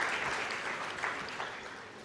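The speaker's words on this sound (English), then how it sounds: "So another round of applause" An audience at a banking and finance conference in a Mumbai hotel hall applauds the Governor, a sustained, even roar of clapping from many hands, fairly loud throughout.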